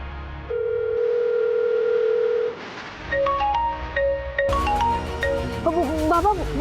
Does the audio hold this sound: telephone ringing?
yes